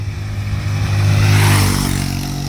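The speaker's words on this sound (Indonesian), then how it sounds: "motor lewat juga dengerin suara ya" A motorcycle engine swells as it passes nearby, rumbling louder in the middle and then easing off, with no voices.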